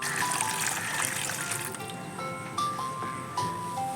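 Prawns rinsed under running water, a close steady trickle and splash of flowing water with small shifts as the prawns are moved about, no voices.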